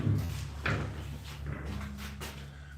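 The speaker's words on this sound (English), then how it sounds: "Come on, door shut." During a paranormal investigation, a door is pushed shut with a low dull thump, then a second bump, followed by muffled rumbling in a room.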